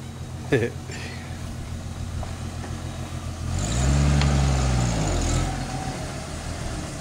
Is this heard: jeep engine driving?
yes